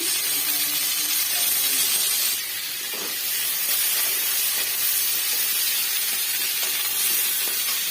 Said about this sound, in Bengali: ভালো করে হালকা করে ভেজে নেব